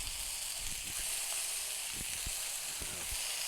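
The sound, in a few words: burger patty smashed with a pot sizzling on Blackstone griddle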